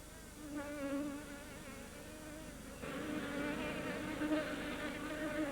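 A swarm of Hormuz bees shelters in a small cave at the base of a salt valley, their buzzing a continuous close, wavering drone that swells louder midway, with no voices.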